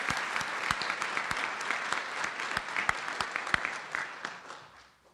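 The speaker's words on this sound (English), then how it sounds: "Can we give them one more round of applause?" Audience applause at a school ceremony fills the room with a steady wash of clapping, individual claps sharp and distinct, then tapers off and fades out at the end.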